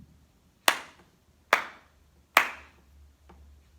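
Three crisp, evenly spaced hand claps ring out close and alone in a quiet music lesson room, followed by a much softer fourth clap that closes the simple rhythm.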